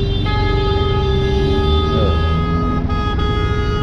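Car horn in city traffic, heard from a Honda Dio scooter: a long, steady, tonal blare holds over continuous road and engine noise.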